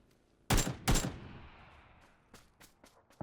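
Two heavy AK rifle shots boom close together in a PUBG match, each with a long decaying tail, followed by a string of fainter, more distant shots.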